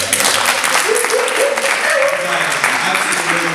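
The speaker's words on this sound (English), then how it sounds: "I think that you guys need to give him another round of applause." A hip-hop summit audience at Salem State applauds for the painter Ian, a broad continuous wash of clapping and crowd noise with cheering voices rising through it, loud and close.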